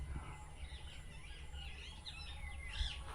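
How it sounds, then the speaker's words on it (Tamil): Birds call and chirp in repeated bright phrases around a rural cave temple set among fields, moderately distant over a steady low background hum, with no talking. "நிறைய வித்தியாசமான பறவைகளை வந்து இங்கே பார்க்க முடியுதுங்க"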